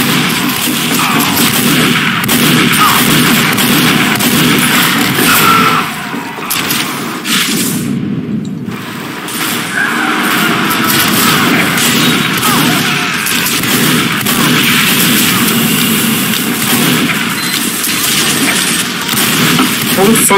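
Dense, loud gunfire and explosions from a Team Fortress 2 match on the Hightower map, crashing almost without break and briefly dropping away near the middle, with a voice talking over the action.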